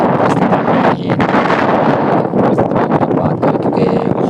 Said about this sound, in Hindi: काफी तेज हवाएं मैदान में चल रही है।